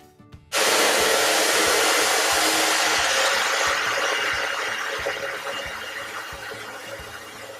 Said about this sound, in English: I've blow dried it all smooth.